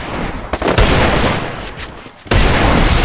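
Gunfire in a mobile shooting video game, with rapid bursts of loud cracking shots and a sharp blast near the end, dense and close with no talk over it.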